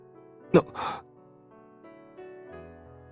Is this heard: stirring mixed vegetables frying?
no